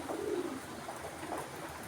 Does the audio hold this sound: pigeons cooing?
yes